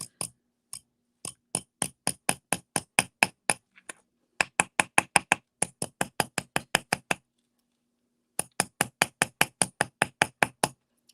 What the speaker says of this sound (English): I'm going to use my nylon hammer and I'm just going to tap at it a little bit.